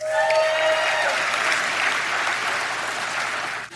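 An audience applauds for a woman named Christina at a live church gathering, a dense, sustained wash of clapping heard close and fairly loud. It carries on evenly before cutting off abruptly near the end.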